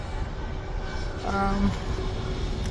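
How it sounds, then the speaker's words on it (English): A train rumbles past at a distance, a steady low drone with a brief tonal rise midway, no voices. "Watching the train go by"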